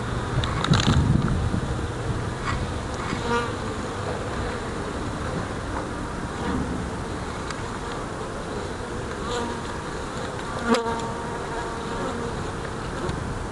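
Honey bees swarm and buzz steadily around beehive frames at an apiary, a dense continuous drone close by with no talking and one brief knock near the end.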